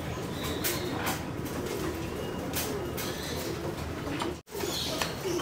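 Domestic pigeons crowd at a loft trapdoor, their low cooing mixed with scattered wing flutters and rustling, fairly quiet and close with no talking.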